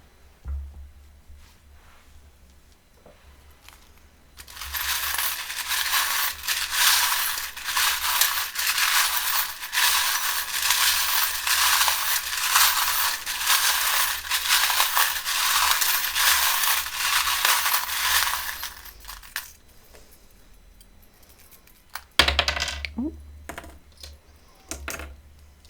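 Tarot charms, tokens and dice are shaken and cast in a long dense burst of clattering, rattling taps lasting many seconds, followed by a few louder knocks and rustles near the listener.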